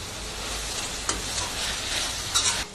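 Turmeric powder frying in oil over a high flame for coconut and tomato rice, a steady broadband sizzle throughout with a couple of short stirring scrapes, close and fairly loud, no voices.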